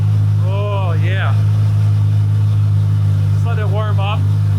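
A Pista supercar fitted with a Klein Inconel exhaust warms up, its engine holding a steady, loud low idle rumble throughout while people talk over it.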